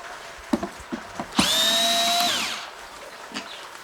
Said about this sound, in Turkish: daha sonra sileceklere ulaşabilmek için şu vidaları söküyorum